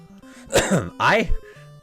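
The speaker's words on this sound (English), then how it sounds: "sorry, I'm coughing a lot." Two harsh coughs in quick succession, close to the microphone, with a low hum in the background.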